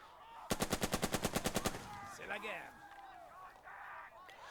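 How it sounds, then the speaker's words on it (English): Squad gunfire in the war strategy game Burden of Command: a rapid burst of about a dozen evenly spaced shots, followed by softer battle noise and shouting voices. "we're going to shoot at this squad as well"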